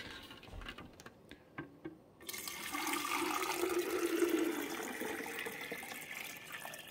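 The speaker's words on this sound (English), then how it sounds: "And now we're going to dump just fresh water" Fresh water gushing into the reservoir of a Mr Coffee 2-quart iced tea maker, preceded by a few light plastic clicks and taps, then a steady close pouring rush that fades slightly toward the end.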